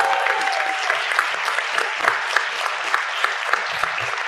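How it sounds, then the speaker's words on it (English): Audience applause at a roundtable event, a steady burst of clapping from a crowd, fairly close and lasting several seconds. "if we can get one more round of applause for Guides, Mrs. Guides, and the whole committee"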